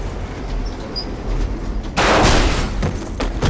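Train in a Spy Hunter Nowhere To Run video game cinematic: a low rumble under the first half, then a sudden loud, broadband roar of rushing noise as the train bursts in close, continuing to the end.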